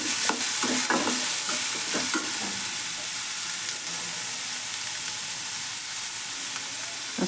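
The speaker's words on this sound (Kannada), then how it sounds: "ಎಣ್ಣೆಯಲ್ಲೇ ಫ್ರೈ ಮಾಡಬೇಕು." Vegetables for a palya fry and get stirred in hot oil, giving a steady close sizzle with scraping stir strokes clustered near the start and a continuous hiss throughout, with no voices.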